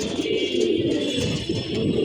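Pigeons cooing in a loft, soft low throaty coos repeating close by over a steady background hum, no one talking.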